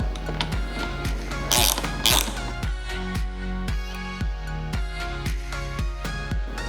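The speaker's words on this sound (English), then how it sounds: "take my nylock nut and tighten it back down" Ratchet wrench tightening a nylock nut onto an electric skateboard wheel, a steady run of rapid clicking strokes with a couple of louder bursts, close and alone with no talk.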